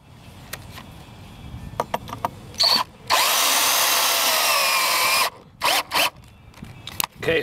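A power drill drives screws into a wooden raised bed, a short burst then a long steady whir of about two seconds followed by two quick bursts, loud and close amid clicks and handling knocks.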